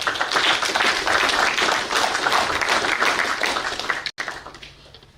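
Audience applause at an installation ceremony for a county governor as chamber of commerce patron, a dense steady wash of many hands clapping that tapers off near the end.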